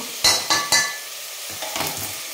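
Mutton sizzles and is stirred in a pan over a full gas flame, with a few sharp scraping stirs early on and a steady frying hiss underneath, close and fairly loud.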